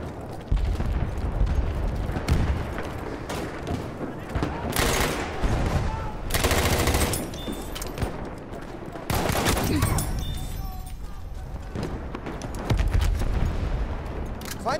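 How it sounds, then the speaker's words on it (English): Machine gun fire in Battlefield 1 rattles almost continuously in loud dense bursts, mixed with heavy booms and battlefield din, with voices briefly under the chaos. "Feindliches MG!"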